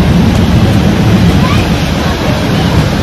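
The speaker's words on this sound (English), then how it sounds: "going underneath the waterfall." Waterfall at Disney's Typhoon Lagoon water park, heard up close as a loud, continuous roaring rush of falling water that fills the whole clip.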